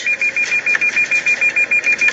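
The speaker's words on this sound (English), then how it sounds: "their Lexus starts beeping out of control" A Lexus warning sensor beeps rapidly and steadily about six times per second, high-pitched and insistent, at a highway intersection, with no other sounds.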